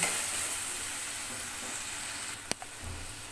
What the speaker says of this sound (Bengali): এই যে কেটে রাখা টমেটোটাও মশলার সঙ্গে কষিয়ে নিব